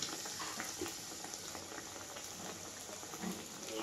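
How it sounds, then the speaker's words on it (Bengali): Eggplant fritters (beguni) frying in hot oil three at a time, a dense, continuous bubbling sizzle heard close and steady throughout with no talking. "তিনটা করে ভাজছি"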